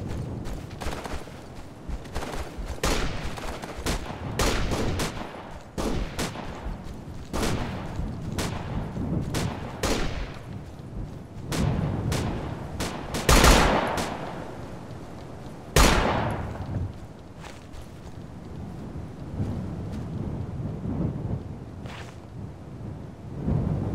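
Gunfire in Operation Flashpoint: Dragon Rising, a long exchange of rifle shots and heavier booming reports, some close and loud, others distant and echoing, irregular and scattered over the whole stretch.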